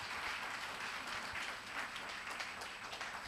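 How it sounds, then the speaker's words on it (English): Conference audience applauding after a science and communication session talk, a steady, fairly quiet patter of clapping that holds through the clip with no voices over it. "Round of applause."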